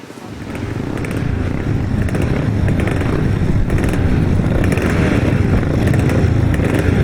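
250cc grasstrack racing motorcycles at a grasstrack meeting in Wimborne, a loud, continuous engine roar building from the start and holding steady as several bikes race together nearby.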